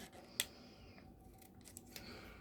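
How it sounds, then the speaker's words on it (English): A single sharp metallic snip rings out, followed by a few faint clicks and light handling noises in a quiet room. "I am back with a pair of scissors."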